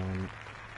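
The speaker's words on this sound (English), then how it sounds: "polite round of applause there for the dot ball" Polite crowd applause from a cricket match in the Cricket 19 video game, a short burst of clapping with a brief tonal tone at the start, heard alone.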